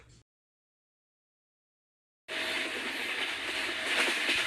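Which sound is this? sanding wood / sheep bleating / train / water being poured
train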